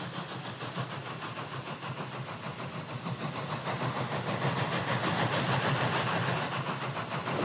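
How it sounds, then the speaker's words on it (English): A steam locomotive at work makes a loud, dense, rhythmic chuffing and hissing roar that grows slightly stronger midway and continues without pause, with no voices over it. "There's so many people now that have never seen a steam engine"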